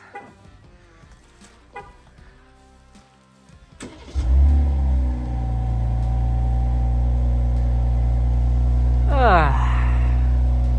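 After several seconds of clicks and small noises, a RAM 1500's 3.0L twin-turbo Hurricane engine cranks and starts with a loud burst, then settles into a steady, deep idle, with a brief rising whine near the end.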